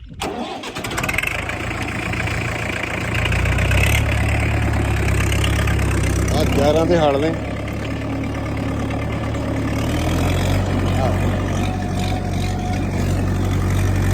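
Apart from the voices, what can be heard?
old tractor engine starting and idling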